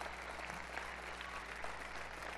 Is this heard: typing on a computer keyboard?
no